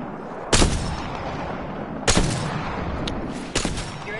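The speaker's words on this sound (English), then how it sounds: "I'm shooting him." Three loud, close gunshots from Apex Legends gameplay, spaced about a second and a half apart, each a sharp crack with a short ringing tail over steady background noise, plus a faint small click between them.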